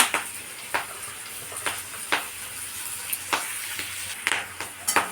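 A ginger, garlic and tomato paste frying in a pan gives a continuous sizzle, broken by repeated sharp bursts as it is stirred, close and without speech.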